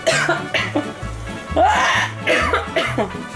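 A person coughs repeatedly from blended chile fumes while making salsa, a close burst of harsh coughs and throat clearing without words.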